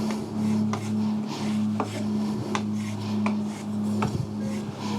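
Steel hand plane blade drawn back across a sharpening stone a few times to remove the burr, giving short scraping rubs at a steady rhythm over a constant background hum.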